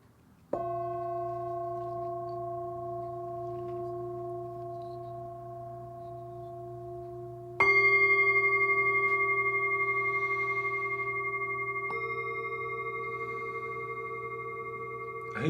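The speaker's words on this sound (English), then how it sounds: "these are ancient Tibetan sound bowls" Ancient Tibetan singing bowls ring out in long sustained tones, one struck near the start and another joining about halfway through, each shimmering with bright overtones and slowly fading, with no talking.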